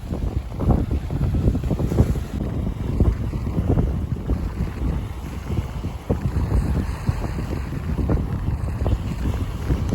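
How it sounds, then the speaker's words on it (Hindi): Strong wind blows over the water at the Rathoa Haryam Bridge near Mangla Dam in Mirpur, a loud, continuous roar and buffeting against the microphone with no break. "और हवा जी है वो बहुत ज़्यादा तेज़ है"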